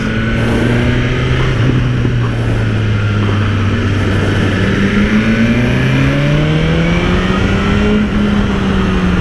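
A new BMW S1000RR sport motorcycle lapping a track day circuit on street tyres, its loud engine wailing continuously as the revs climb and fall through gear changes, close and without speech.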